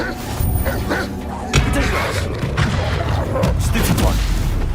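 A Confringo spell explosion in the Hogwarts Legacy video game, a loud booming blast with crackling debris amid continuous game noise and muffled rumbles.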